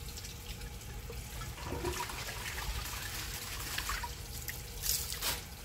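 A 1966 Nationaline toilet with a hard clog gives a faint, low gurgling water sound with soft trickles and drips, swelling slightly midway and ending with a brief splashy surge, heard alone without speech.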